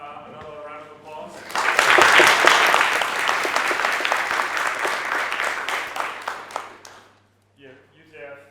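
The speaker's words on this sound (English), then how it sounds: "Just give another round of applause." A conference audience at a Ruby unconference breaks into a loud, sustained round of applause lasting several seconds, then it fades out. Someone talks briefly before and after the clapping.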